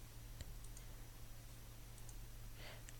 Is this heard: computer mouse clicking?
yes